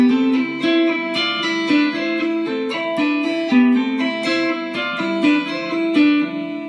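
Electric guitar plays a film theme with two-hand tapping: a quick, repeating pattern of bright, sustained notes in an even rhythm, clear and alone with no talking.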